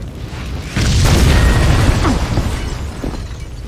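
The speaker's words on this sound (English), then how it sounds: "The building's blowing up." A building packed with explosives blows up in Max Payne 2: a loud, sustained roaring explosion with deep rumble and crackling debris that lingers and slowly settles.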